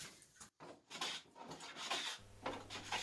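A wooden back panel board being smoothed with a hand plane, giving repeated rasping strokes of blade on wood in a steady rhythm, close and fairly loud, with no talk.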